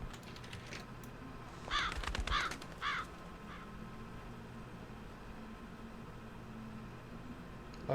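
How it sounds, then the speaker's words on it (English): A crow in the horror game Palmyra Orphanage caws three or four times in a quick harsh series, moderately near over a quiet hiss and faint clicking of keys. "Why was there a crow in the orphanage?"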